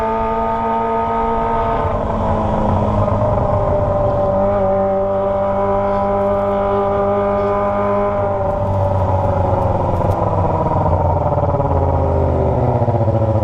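Kawasaki ZX25R motorcycle fitted with a Toce exhaust, revving steadily with a shrill, high-pitched engine note that rises and falls through several long sweeps, close and loud without talk.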